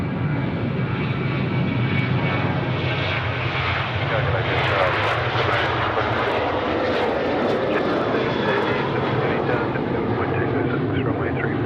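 A Qantas Boeing 737 taking off on runway 34 right roars as a loud, continuous engine rumble with a broad rushing hiss that swells and holds for the whole stretch.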